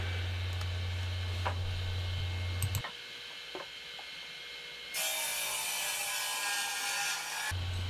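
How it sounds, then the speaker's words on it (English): A saw ripping lengthwise through a 2x6 wood board: a loud low motor hum that cuts out near three seconds, then scraping and ticking handling noises, followed by a bright hissing burst of cutting for several seconds. "I'm going to rip 4 pieces from one of these 2x6 by 12 inch pieces"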